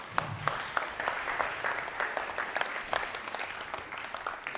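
Audience applause in a university leadership session, steady many-handed clapping at moderate distance, sustained for several seconds without talk.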